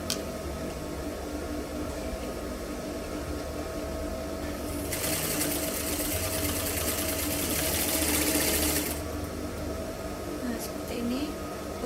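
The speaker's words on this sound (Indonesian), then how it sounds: "Kemudian kita jahit sekitar 1 cm." A sewing machine stitches a hem about 1 cm deep on a half-circle skirt, running steadily for about four seconds mid-clip before stopping. It rises over a constant low room hum, with quieter handling before and after.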